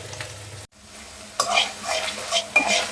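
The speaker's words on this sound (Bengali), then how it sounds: "পেঁয়াজের মধ্যে আমি আদা বাটা দিয়ে দিচ্ছি, এই যে কিছু রসুন বাটাও আমি দিয়ে দিলাম।" Ginger and garlic paste fry with chopped onions in a pan, a close sizzle broken by a brief pause and then stirring scrapes and clinks, with no talking.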